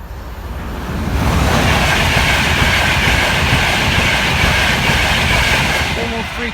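Train rushing past the Norwell Lane level crossing in Nottinghamshire, building quickly to a loud, steady roar of wheels and wagons close by, with rhythmic clatter that eases slightly at the end.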